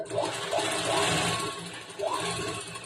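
A sewing machine stitches polyester lining beneath satin fabric for an A-line kurta, running in a close, continuous mechanical whir that swells and eases in short bursts.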